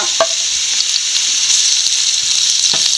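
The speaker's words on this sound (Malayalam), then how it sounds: "സവോളയും പച്ചമുളകും നല്ല ഒരു പകുതി വഴന്ന് കഴിയുമ്പം ഇഞ്ചിയും വെളുത്തുള്ളിയും ഇട്ട് കൊടുക്കാം" Ginger and garlic go into a pan of onions and green chillies already half sautéed for a fish molly curry, sizzling loudly and steadily throughout, with a few sharp stirring clinks over the constant hiss.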